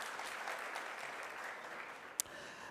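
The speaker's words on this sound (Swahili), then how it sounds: "let's put a round of applause for them because they've heeded our call and they've honored this invitation" Applause for political aspirants at a town hall meeting in Isiolo, a steady wash of clapping from a crowd with one sharp louder clap near the end.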